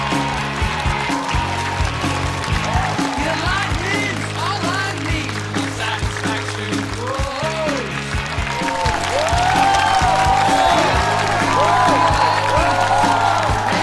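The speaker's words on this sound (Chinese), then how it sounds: "掌声欢迎一下" A studio audience at a comedy roast talk show applauds, a continuous dense clapping that swells louder toward the end, mixed with background music and voices.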